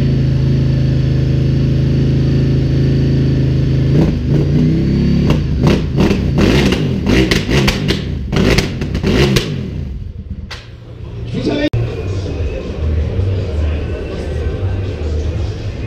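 A Ducati 1299 Superleggera sport motorcycle revving loudly at a French-speaking motorcycle festival, with a steady rumble broken by a burst of sharp throttle blips and crackles before settling back to a throaty idle.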